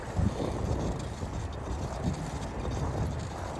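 Wind of about 17 mph blows from the north across a boat on open water. It sounds like a steady low rumble and buffeting right at the microphone, with a few brief gusts and no speech.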